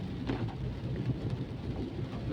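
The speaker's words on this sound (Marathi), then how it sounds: "खूप वेळ मी स्लो गाडी चालवतोय, कारण आज पाऊस पण खूप जोरात आहे." Heavy rain drums on a car driven slowly on a road near Rasayani, a low continuous rumble and patter heard from inside the vehicle, fairly faint with no talking.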